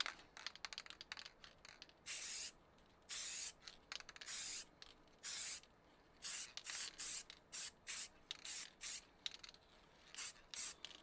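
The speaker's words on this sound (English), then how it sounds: "Here we go then, first spray." Spray paint hissing onto a laptop lid in a series of short bursts of roughly half a second each, separated by brief gaps, close and fairly loud.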